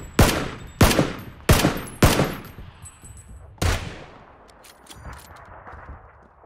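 Gunfire in PUBG: four evenly spaced loud cracks in quick succession, then a fifth after a short pause, each shot ringing out with a decaying echo tail before quieter distant pops.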